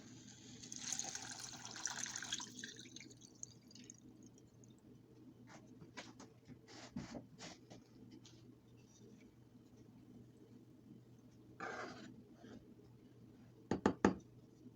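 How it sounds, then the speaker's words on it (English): Warm water is poured into blended soaked black rice, a short liquid gush near the start followed by quieter clinks, knocks and handling noises, and a few sharp taps near the end, with no talking. "Now we're going to add warm water."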